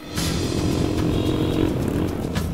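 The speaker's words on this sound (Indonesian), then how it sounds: "iring-iringan motor ojek kami melintasi Sabang menuju dusun Ponglobang" A convoy of ojek motorcycle taxis riding from Masamba toward the hamlet of Ponglobang, engines droning and revving together close by, with rattling clatter over a constant rough roar.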